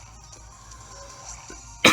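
A single sharp cough bursts out near the end, close and loud, after a stretch of quiet background hum while someone plays Pokémon Ultra Moon.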